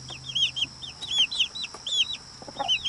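A hen clucks softly and close by while chicks keep up rapid, high-pitched peeping in quick bursts.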